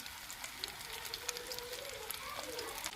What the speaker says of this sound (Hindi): देखिए माशाल्लाह टिक्कियाँ जो है हमारी फ्राई हो रही हैं।